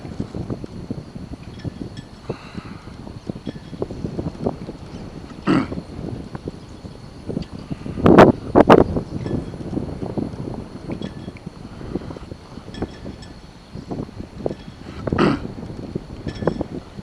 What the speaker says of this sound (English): It is awful windy.